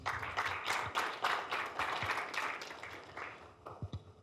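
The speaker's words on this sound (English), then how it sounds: "Big applause again, please." Audience applause closing a trade presentation on tariff liberalization and schedules of concession, a scattered, moderate patter of clapping that thins out toward the end with a few last isolated claps.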